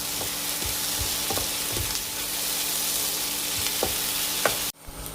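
Onions sautéing in a pan for an egg roast with curry leaves, a steady close sizzle with scattered soft utensil taps, stopping abruptly near the end.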